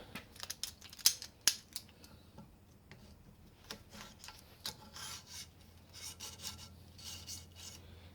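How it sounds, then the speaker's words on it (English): Oiled hone working in and out of a Honda SOHC 750 engine cylinder on a bench, giving a quiet, irregular rasping and scraping with occasional sharp ticks and clicks, no talk. "we'll take this over to the bench and start honing"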